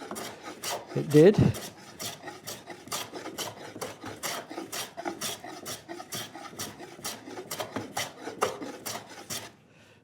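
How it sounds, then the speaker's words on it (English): A hand plane is pushed in quick, regular strokes across a wooden workbench drawer, producing a series of short, dry rasping swishes close by and at moderate volume, followed by a brief pause. "So I'm going to just take a shaving off to see how it"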